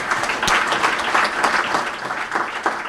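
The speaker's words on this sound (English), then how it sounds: "Please, let's give him another round of applause." Sustained crowd applause fills a hall at a Central Bank of The Gambia capital market launch ceremony, dense steady clapping for about three seconds with no voices on top.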